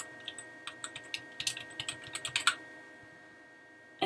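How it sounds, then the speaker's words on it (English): A password is typed on a computer keyboard: about a dozen crisp, close keystrokes in quick, uneven succession, a pause of over a second, then one final key press, with no talk. "And then you put in your password"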